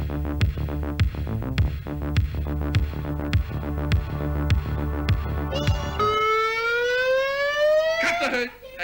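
A hooter siren signalling time is up sounds at a stage show: a rhythmic throbbing pulse first, then a rising wailing tone that swells and cuts off abruptly.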